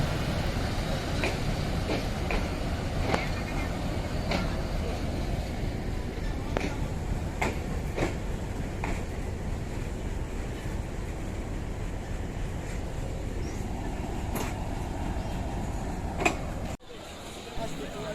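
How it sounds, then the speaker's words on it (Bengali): Tungipara Express passenger train entering Poradah Junction station in Bangladesh: a continuous low rumble with scattered clanks and clicks, and a murmur of people in the background, ending in a brief drop near the end. "টুঙ্গিপাড়া এক্সপ্রেস ট্রেনটি এই মুহূর্তে পোরাদহ জংশন স্টেশনে প্রবেশ করতে যাচ্ছে"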